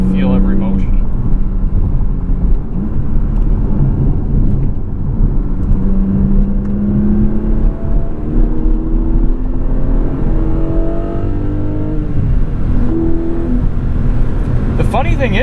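A 2021 Porsche 718 Cayman GTS with the 4.0 flat-six and six-speed manual pulls hard, its engine note rising and dropping through gear changes, loud and close from inside the cabin with a voice over it.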